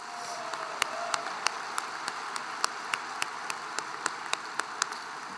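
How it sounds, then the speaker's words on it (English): Scattered applause from a crowd at a high school graduation ceremony, with individual claps standing out irregularly over a soft wash of clapping. "How about a nice round of applause for all of our honored guests?"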